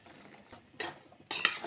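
Bean seeds and fish being stirred in a pan, with two short bursts of scraping and clinking, the second louder, over quiet kitchen background.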